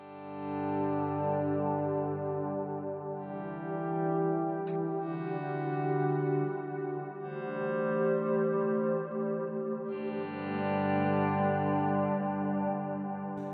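Electric guitar swells run through a Line 6 Helix with always-on reverb plus dotted-eighth and quarter-note delays, producing long, smooth sustained chords that fade in and wash together with echoing tails, played alone without talk.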